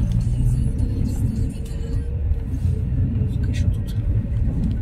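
Steady low road rumble and engine hum from a car driving along a familiar road toward a maternity hospital, continuous and fairly loud inside the cabin, with faint murmured voices underneath.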